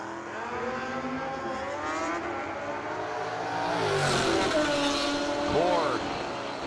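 1965 Dodge Dart drag car launches at a no-box drag race, its engine bogging at the hit before revving and pulling away, with a second car and a commentator's voice over the loud, rising engine noise.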